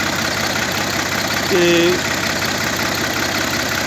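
A 2012 Al-Ghazi tractor engine idles with a steady, loud, broadband rumble throughout, while someone briefly speaks over it.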